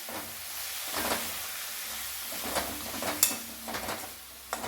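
A spoon stirs and scrapes through a pan of sizzling vegetarian curry, with soft clinks and a steady frying hiss underneath.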